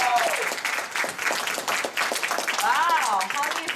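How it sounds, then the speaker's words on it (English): Audience applause for a speaker named Daniel at a motivational talk, steady broadband clapping with a voice speaking over it and cheering rising near the end. "Can we give Daniel another round of applause?"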